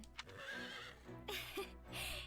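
A horse in the game Fire Emblem Warriors: Three Hopes lets out a couple of bright, close whinnies, with soft hoof clip-clops and snorts between them, no speech.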